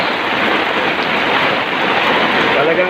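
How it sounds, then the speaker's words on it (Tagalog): Heavy rain pours down in a street setting, a loud, dense, unbroken hiss of water filling the whole moment. "Matindi itong ulan na to"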